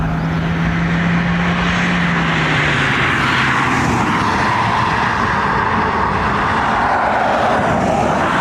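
A Ryanair airliner takes off from Dublin Airport's runway 28 right, its jet roar steady and broad, with an engine tone that slides lower as the aircraft climbs away.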